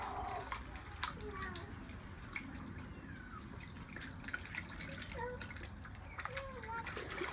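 A slaughtered chicken is dunked and swished in hot scalding water on a farm, producing faint sloshing, dripping and trickling sounds at close range against a low background.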